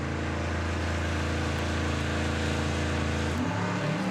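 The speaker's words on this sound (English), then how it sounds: "That Audi will leave first, and it'll be the Passat that will be doing the chasing." An Audi S3 and a VW Passat sit at a drag strip launch, engines droning with a steady, buzzing rumble that shifts pitch sharply as they pull away, loud and continuous.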